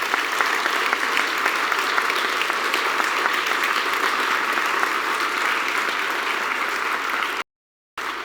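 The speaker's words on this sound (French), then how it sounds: "Pourquoi ne les applaudissons pas ensemble maintenant?" An audience at an award ceremony applauds the prize recipients with sustained, dense clapping that holds steady for several seconds before breaking off briefly near the end.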